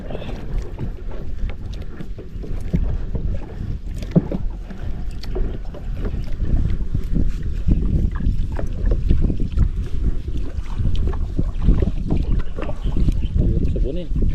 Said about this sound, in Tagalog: Hangin lang malakas no?